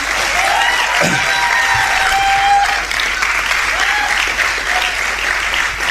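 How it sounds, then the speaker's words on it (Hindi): Crowd at an Amway direct-selling event clapping steadily, a full, sustained round of applause from many people, with someone talking over it through the clip. "तालियां बजाओ दोस्तों।"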